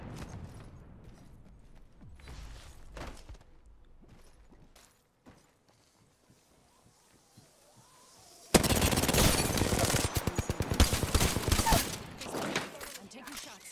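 Gunfire in the battle royale shooter Apex Legends: scattered shots and mechanical clicks under talk give way to a near-silent stretch, then a sustained loud burst of rapid automatic fire.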